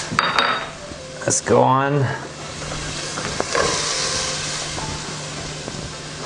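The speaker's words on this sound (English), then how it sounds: "Onions, I'm gonna toss some onions in there. This is already hot." Onions tossed into hot oil in a soup pot, a clatter of utensils against metal, then a steady sizzle that keeps going under brief talk, close by.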